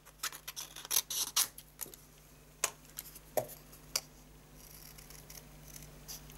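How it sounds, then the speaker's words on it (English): Scissors snip through stamped cardstock while a sunflower design is fussy cut, giving sharp close clicks that come in quick clusters early on and then space out over a low background hum. "with my scissors I'm going to cut that out"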